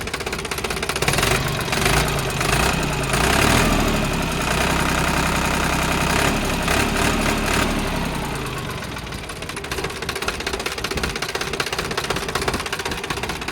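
A 2015 Sonalika RX 60 Sikander 50 hp tractor engine idles steadily, a continuous close mid-to-low rumble with a faint knocking pulse, easing slightly in loudness toward the end.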